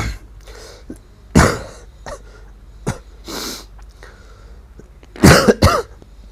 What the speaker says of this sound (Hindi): आजकल खांसी का दौर चल रहा है